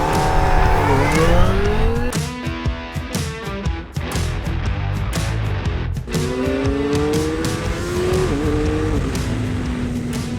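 A Kawasaki ZX-4RR motorcycle on a ride, its engine revving hard and climbing through the gears with repeated rising pitch sweeps, loud and close, cutting back briefly before pulling up again.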